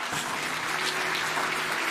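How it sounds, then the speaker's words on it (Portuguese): A church congregation claps in steady, dense applause, a continuous wash of many hands at close range with no voices above it. "tenha a liberdade de celebrar conosco a Deus essa decisão, com uma salva de palmas ao Senhor"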